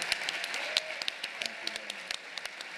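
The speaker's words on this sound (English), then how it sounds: "let's give a last round of applause and then proceed to a party" A conference plenary audience gives a final round of applause, a thin, scattered clapping with distinct individual hand claps popping over a soft background wash, as at a small or sparsely filled session.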